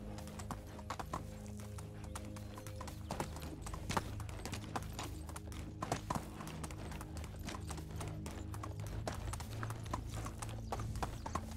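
Horse hooves clip-clop steadily in the medieval survival game Medieval Dynasty, a regular rapid trotting rhythm over a constant low ambient game hum, heard alone without talk.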